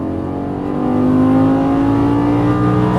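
Lamborghini Gallardo LP550 engine pulling hard under throttle on a track, a loud, steady rising drone with strong harmonics that swells after the first second and holds close and sustained.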